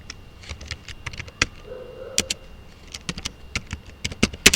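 Keys clatter on a computer keyboard in irregular bursts of sharp taps, some louder strokes standing out, close and alone with a faint background hum.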